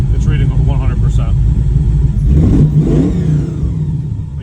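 A 1988 Camaro's 4.8 LS V8 runs cold on a basic fuel tune, a steady low rumble with a brief rev swell near the middle, heard close under continuous talking.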